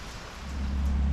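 Light rain pattering steadily outdoors as a storm eases off along a cycling route toward Riga, a soft continuous wash with a low rumble beneath and no voices.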